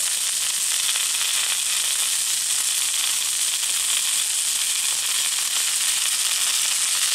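Steak searing in a pan with butter and thyme, giving a loud, continuous hissing sizzle that stays steady and close throughout, with no talking.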